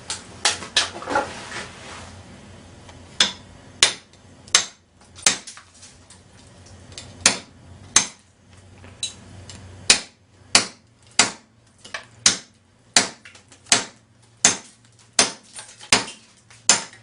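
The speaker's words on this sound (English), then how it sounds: "Let's hammer the edge into the concrete." A Busse knife edge is driven into concrete with a hammer, giving a run of sharp, close metallic impacts. They start scattered, then settle into a fairly steady rhythm of loud strikes about every half second to second, with no voices.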